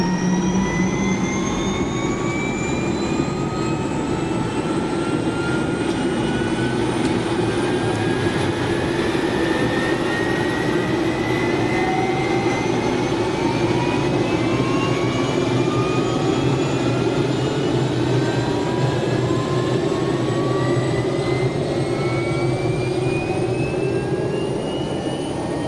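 Turbine engine of a MilViz MD530F helicopter spooling up in a flight simulator, a steady loud whine with tones rising slowly over a low rumble, continuous and alone throughout.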